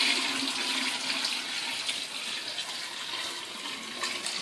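Hot water rushes and splashes steadily into a bucket of blackberries for winemaking, a continuous loud pouring hiss with no voices.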